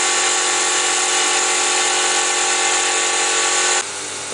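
Pneumatic wire stripper, model WSP-07 for wires up to 4 mm diameter, runs with a steady loud hiss and mechanical whir for several seconds before the air note drops abruptly near the end.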